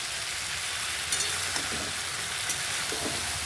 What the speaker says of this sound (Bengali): আর একটু কষিয়ে নেব তারপরে পুঁই শাকের পাতাটা দিয়ে দেব